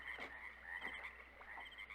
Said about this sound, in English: And the first thing we hear is the wildlife. We hear birds, frogs,